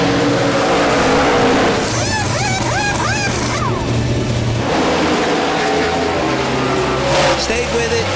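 NASCAR stock cars racing at Dover, Delaware, roar loudly past with swelling and fading engine drones, while voices talk over the continuous track noise.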